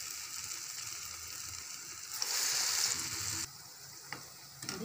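Moong shami kebabs frying in oil sizzle steadily with a bright hiss. A louder surge of crackling swells midway and then settles back to a softer fizz with a few sharp pops near the end. No one speaks.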